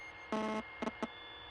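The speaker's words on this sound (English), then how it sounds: "there's like a buzzing noise" A faint electronic buzz comes through headphones in The Suicide of Rachel Foster, heard as one longer tonal burst followed by two short ones against a quiet background hum.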